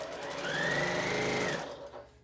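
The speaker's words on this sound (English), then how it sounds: "I'm about to sew over a pin." Over two seconds, a sewing machine stitches across a long fabric seam and runs over a pin, giving a close, rapid mechanical whir that swells and then stops.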